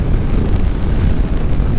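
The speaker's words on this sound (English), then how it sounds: "Very windy." Loud, steady wind buffeting a microphone while riding a Honda NC700X motorcycle on a highway at about 68 mph, a constant low roaring rush with no voices.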